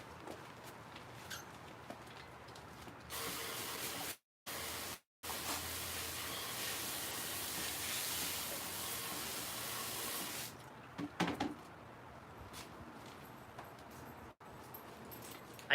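Water sprays onto a stone to rinse it, a broad hissing rush that runs steadily for several seconds, breaks off twice briefly, then resumes before trailing away into quieter drips and handling noise.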